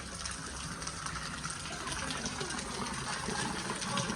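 Rainwater gushes and flows steadily through a flooded farm field after heavy rain, a continuous close rushing wash with faint voices in the background.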